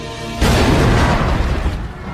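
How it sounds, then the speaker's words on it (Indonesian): A bomb blows up the Dutch headquarters in the Indonesian war film Darah Garuda. After a short quiet hum, it bursts into a loud, sustained booming roar that rumbles and slowly fades. "sebentar lagi bom akan meledak"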